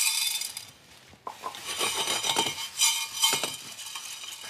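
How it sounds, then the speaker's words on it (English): Black peppercorns dry roasting in a pan, with scraping and rattling as they are stirred, in close irregular bursts separated by short quiet gaps. "my last ingredient to dry roast is just some black peppercorns"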